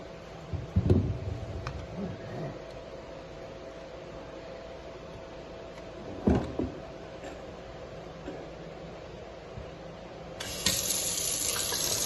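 Tap water runs steadily into a sink as fruit is washed by hand, with a few clunks and splashes near the start and midway and a brief stronger gush near the end.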